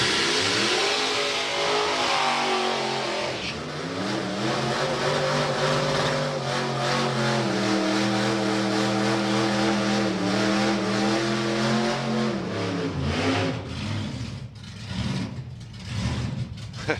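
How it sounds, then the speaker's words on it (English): 1969 Camaro launching at a drag strip, a loud engine roar rising in pitch through the run with a gear change partway, then fading toward the end, heard without commentary. "Oh, that's a lovely flat launch as well."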